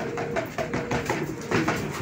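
Racing pigeons coo repeatedly in soft, rolling calls close by, several birds overlapping over a steady background hum.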